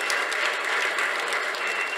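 An audience at a stage event claps for actor Sasikumar, steady, dense applause filling the whole moment, loud and close, with no voices over it.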